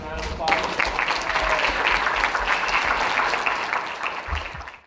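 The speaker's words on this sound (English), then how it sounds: "We all give the senators a round of applause." Applause for the senators from a school news-show audience, a steady wash of clapping at moderate loudness that holds for several seconds before fading out.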